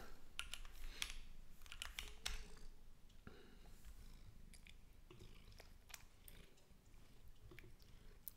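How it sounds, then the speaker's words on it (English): A cat purrs close by in a steady, low rumble, with scattered clicks of computer keyboard typing and small mouth sounds mixed in throughout. "Can you hear the purring?"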